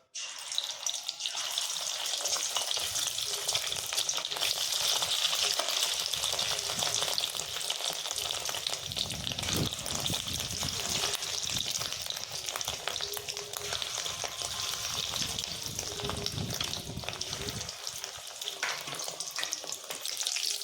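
Small rohu fish roe fritters fry in oil with a continuous, close sizzle and crackle that holds steady for about twenty seconds, with no talking.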